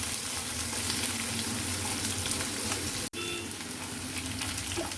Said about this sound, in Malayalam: അരിഞ്ഞു വെച്ച സവാള ഇട്ട് കൊടുക്കാം